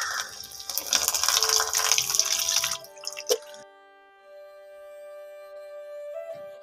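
Water from a freshly broken coconut poured out in a village kitchen: a close, splashing pour for about three seconds, then a brief splash and a few soft drips into near silence.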